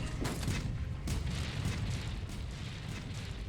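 Cannon fire against the colossal volcanic creature Zorah Magdaros in Monster Hunter: World, a steady roar of booming blasts with sharp bursts near the start and around one second, dense rumble continuing throughout without speech.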